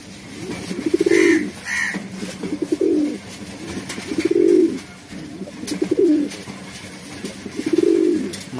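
Racer pigeons coo in a steady repeated rhythm, five or so soft, throaty rolling calls spaced about every one and a half seconds, close by and heard alone.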